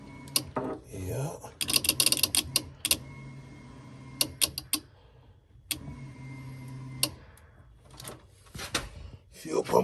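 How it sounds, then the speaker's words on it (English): A fuel pump in a car fitted with a 6.0-litre LQ9 V8 switches on, giving a low steady hum broken by sharp mechanical clicks and rattles nearby. "So I just heard the fuel pump come on."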